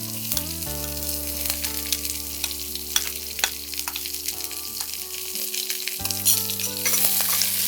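Chopped onions sizzle and fry in a pan for a Bengali doi lau dish, a steady close hiss with scattered crackles and spatter, plus sustained tonal hum underneath; no talking.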